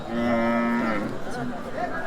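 A bull at a cattle market moos loudly and nearby in a long drawn-out call, then gives a shorter follow-up low, with faint market background behind it.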